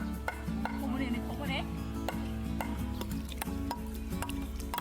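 Chopping the feet off rats before deep frying: a steady run of sharp knife-on-board taps and clinks over a busy kitchen hum, fairly close, with faint sizzling beneath.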